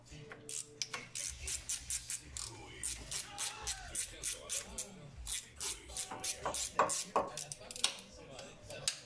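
Bolts come off a water pump on a Citroën C3 1.4 HDi with a ratchet, giving quiet, close, rhythmic clicking of the pawl in short repeated bursts, with someone speaking faintly underneath.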